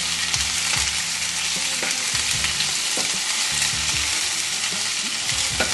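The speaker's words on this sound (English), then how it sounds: "I think it's cooking, yeah. So just saute it." Onions sauté in a hot pan with a steady, dense sizzle, broken up by clanks and scrapes of a utensil stirring them, fairly close and continuous throughout with no talking.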